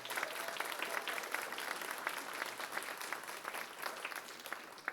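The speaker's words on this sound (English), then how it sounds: "I want to give it a round of applause for Brett and his efforts in running this time" A round of applause from attendees at a public utility commission supplier diversity hearing, steady dense clapping from a crowd at moderate distance, sustained throughout.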